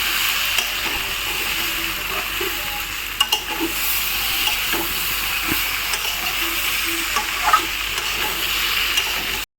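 Tomatoes frying in a pan for a drumstick and potato curry, a steady close sizzle and hiss with a few soft scrapes of stirring, no talking.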